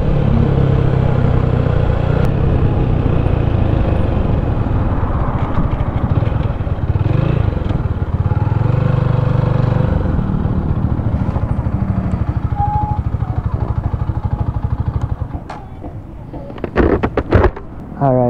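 A Keeway Classic 250 motorcycle engine drones steadily during a break-in ride, a loud low rumble with wind buffeting, while riders talk over it; near the end it drops off into clattering handling noise.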